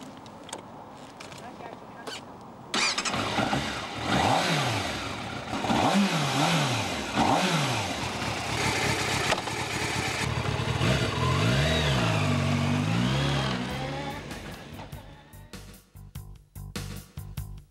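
A 1996 Yamaha YZF600 Thundercat motorcycle engine revs repeatedly in rising and falling blips, then holds a steady running drone, loud and close with a voice talking over part of it.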